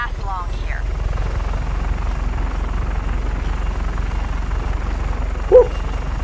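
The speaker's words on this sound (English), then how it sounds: "Get the chopper, man." Helicopter in the video game Just Cause 3, a steady rotor thump and engine drone running throughout, with brief game sound effects over it.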